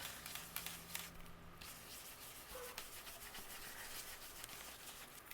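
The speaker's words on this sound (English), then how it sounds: "we're going to add a little bit of the leftover ink from our blending brush on the very bottom and the front of our card" A blending brush rubs leftover ink onto the bottom and front of a paper card base, a soft, close, continuous scrubbing swish with faint rhythmic strokes and no talking.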